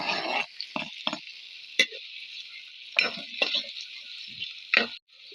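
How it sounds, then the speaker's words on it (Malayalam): Small onions, garlic, ginger and green chili stirred in a hot pan, with a steady close sizzle and several distinct clinks and scrapes of a spoon against the metal, alone with no voices. "നമ്മൾ വഴറ്റിയെടുക്കുന്നുണ്ട്"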